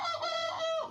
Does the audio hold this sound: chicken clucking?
yes